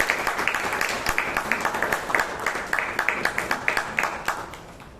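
Audience applause at a Toastmasters meeting in Bangalore: a room full of people clapping briskly with a fairly regular rhythm, close and steady, then thinning out toward the end.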